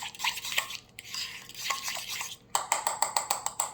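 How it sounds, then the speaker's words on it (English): Butter and herbs are stirred in a bowl with a utensil, giving quiet scraping swishes followed by a quick run of rhythmic clinks against the bowl. "So, we're going to stir this up."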